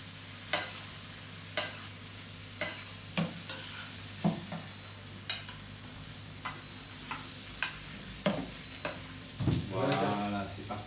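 Butter browning to noisette sizzles steadily in a pan while a spoon bastes it, giving repeated light clinks against the metal and a louder bubbling surge near the end; nobody speaks.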